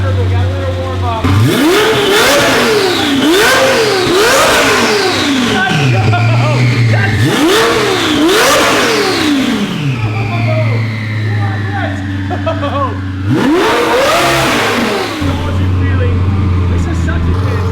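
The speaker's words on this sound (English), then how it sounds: "We're gonna rev her" A twin turbo Lamborghini engine revs hard in repeated loud, rising-and-falling bursts, each settling back to a rumbling idle, with brief voices between revs.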